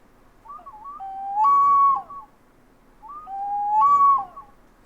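A pre-Columbian Ecuadorian water whistle bottle is blown twice, giving two fluttering, breathy whistles. Each rises to a loud, steady tone with faint multiphonic overtones, heard close and on its own.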